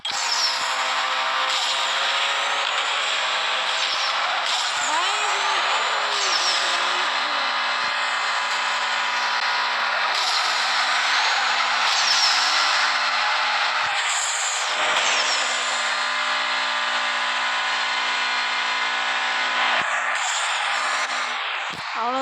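Steady, loud engine hum from a Dodge Charger R/T, continuous and droning throughout with only slight dips in level, heard alone without talk.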